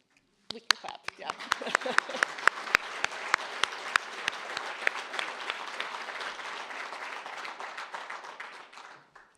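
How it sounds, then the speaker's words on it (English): An audience at a press club presidential inauguration breaks into applause. A few sharp, distinct claps open it, then it builds into sustained, fairly close clapping before dying away. "Please join me. We can clap, yeah."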